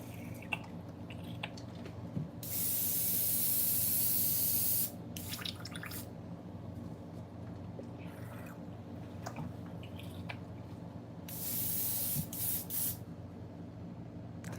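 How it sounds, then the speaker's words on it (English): An airbrush being cleaned while it sprays lures, giving two loud sustained hissing bursts of a few seconds each, separated by quieter background noise and short bursts. "we're just cleaning the airbrush real quick"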